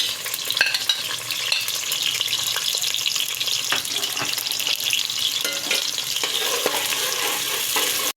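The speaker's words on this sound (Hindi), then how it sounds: "अब मैं डालने लगी हूँ प्याज।" Onion frying in a pot for aloo degi biryani: a continuous close sizzle with stirring scrapes and spoon clicks, moderately loud and steady, with no talk.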